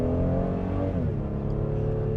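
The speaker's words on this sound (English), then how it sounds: "I'm hearing more of that engine here now that we're in sport mode. I'm just going to hit the accelerator a little bit." The V6 engine of a 2025 Honda Pilot Elite SUV in sport mode drones loudly and steadily from inside the cabin as the driver presses the accelerator, its pitch dipping briefly and then holding.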